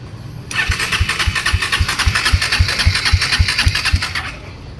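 Bajaj Dominar 400 motorcycle with a starting problem cranks on its starter in a long, even run of rapid chugging pulses that never catch, then falls quiet, loud and close.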